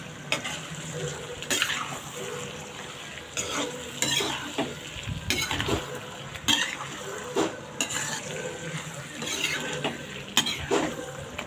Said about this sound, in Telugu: రెండు నిమిషాలు అయితే ఇలా ఫ్రై చేసుకుందాం